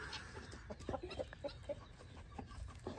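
Roosters and hens at a farm cluck in short scattered calls, moderately faint with general yard background, no talking.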